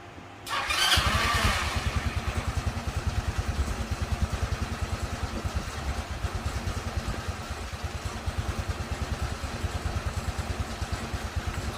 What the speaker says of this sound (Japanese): そしたらやっとセルが回るようになりました。